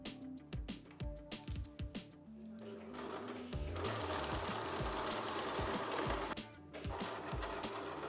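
A sewing machine stitching a front D ring harness attachment, running in rapid rhythmic bursts with short pauses as the stitching goes back and forth, close and steady, with no talking.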